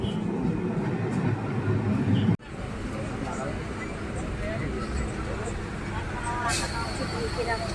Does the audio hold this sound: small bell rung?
no